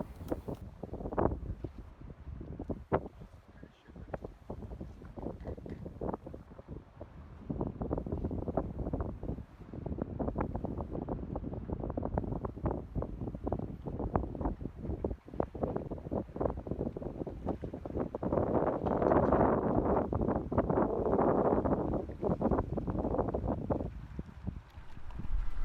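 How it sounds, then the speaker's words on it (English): Wind gusts buffet the microphone in uneven bursts aboard a sailboat at anchor in the Mediterranean, swelling louder toward the end, with no voices. "whenever we're at anchor it's windy"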